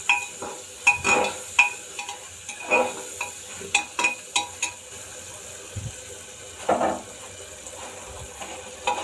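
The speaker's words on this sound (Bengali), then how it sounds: "এবার এই যে ভালোভাবে কষাচ্ছে" Mushrooms coated in meat masala and spices are stir-fried in a pan, with a soft sizzle under repeated, close scraping strokes of a spatula in an uneven rhythm.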